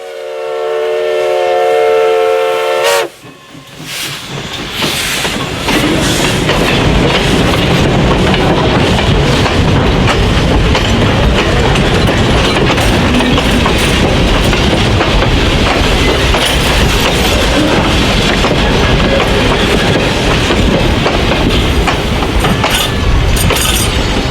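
A steam whistle sounds briefly, then a locomotive runs loud and close, a continuous rumble and hiss with clanking for the rest of the stretch.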